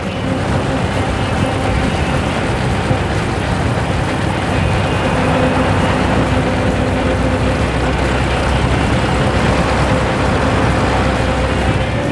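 A roadster from a collection of extreme roadsters being driven, with a steady, loud engine and road roar that runs unbroken throughout, close and continuous, with no talk over it.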